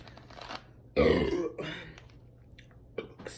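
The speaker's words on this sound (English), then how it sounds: "my belch feel good" A man gives a single loud, deep belch after drinking Coke, close and throaty, lasting about half a second with a smaller rumbling tail, then fading to quiet breathing and room noise.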